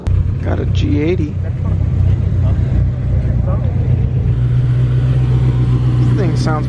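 A BMW G80 engine rumbles steadily at a large outdoor car meet, a loud low drone under constant crowd chatter and nearby voices, with a deeper engine note rising toward the end.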